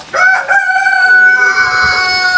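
A Goliath rooster on a poultry farm crows loudly and close by, a single sustained, ringing call that lasts about two seconds.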